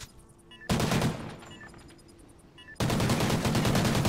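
Video game gunfire: a sharp burst of automatic shots opens, fades into softer in-game ambience, then a dense, loud barrage of rapid fire carries to the end, with no voices.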